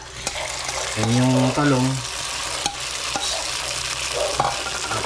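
Eggplant fries in a pan with a steady close sizzle and brief scraping stirs, while a person talks briefly over the cooking.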